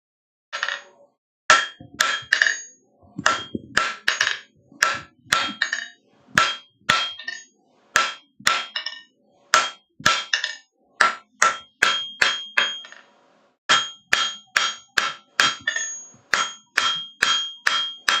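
Hammer blows ringing on metal at a blacksmith's forge, a steady series of sharp, bright strikes in quick groups with brief pauses, loud and close with no voices.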